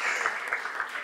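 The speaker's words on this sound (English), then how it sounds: "So a round of applause for yourselves" A lecture audience gives a short, steady burst of applause, evenly spread hand claps with faint voices beneath.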